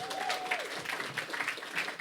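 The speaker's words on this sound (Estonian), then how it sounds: "teeme aplausi Stenile." An audience in a crowded room at a live talk show applauds, a sustained patter of clapping at moderate loudness with a brief whistle or voice rising over it near the start.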